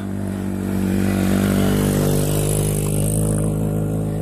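A motorcycle labours up a rural road in San Nicholas, Magsaysay, Occidental Mindoro, its engine droning loud and strained at a steady pitch close by, with rattling mixed in and no talking.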